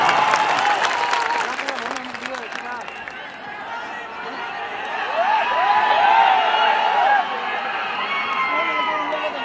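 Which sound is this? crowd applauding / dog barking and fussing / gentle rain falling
crowd applauding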